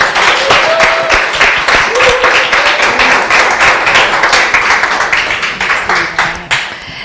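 An audience claps at the close of a leadership seminar in a loud, dense burst of applause that stays near and steady, then thins out toward the end, with no speech over it.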